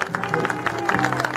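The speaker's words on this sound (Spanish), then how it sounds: "Un aplaudiment ben bo, sisplau." A short burst of audience clapping for Júlia at a theatre company performance, steady dense applause close by with a little crowd noise.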